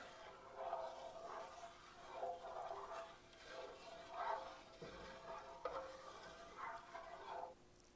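A spoon scrapes and swirls through a thick roux in a large pot with a soft sizzle, in a slow, repeating rhythm of strokes, close but quiet, with no talking.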